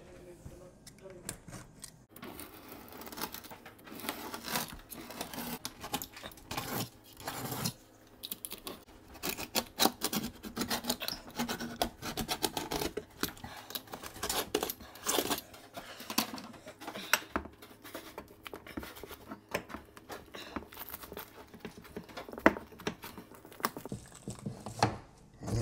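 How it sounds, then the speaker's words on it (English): A blade scrapes and scratches along a kitchen backsplash, cutting out old caulk in a busy run of small rasping strokes that continues for the whole stretch, with a voice talking now and then. "I'm gonna cut out this caulk."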